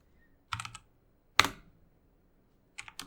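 Fingers typing a command on a computer keyboard in a PowerShell terminal, short close bursts of clicking keystrokes separated by pauses, one sharp louder press in the middle.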